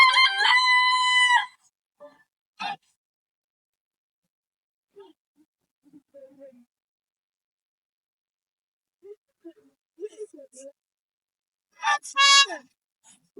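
A rooster crows loudly and close at the start and again near the end, with a few short faint clucks and scattered small noises in the quiet between.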